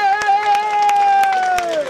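Audience applause at an outdoor brass band concert at the Kubešova Soběslav 2014 festival. Broad clapping runs under a sustained held musical tone for about two seconds.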